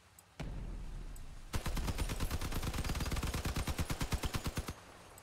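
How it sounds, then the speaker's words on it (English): Automatic weapon fire in the vehicle combat game Crossout: a lone opening burst, a short pause, then a long rapid stream of evenly spaced shots at close range. "Are you shooting at me?"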